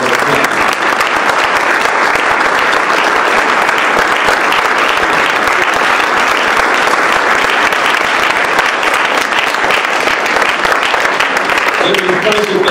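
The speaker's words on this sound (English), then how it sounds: "can we all join together and give our panelists a round of applause?" Steady, loud applause from an audience for a panel, sustained clapping filling the whole stretch without letting up.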